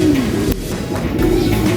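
Racing pigeons coo steadily in a soft, continuous murmur during a natural bath, the low throaty calls close and overlapping with faint water and movement underneath.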